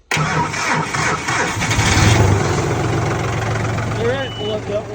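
A diesel tractor engine with glow plugs cranks and catches right away, then settles into a loud, steady idle with a low rumble and a mid-pitched drone close to the microphone.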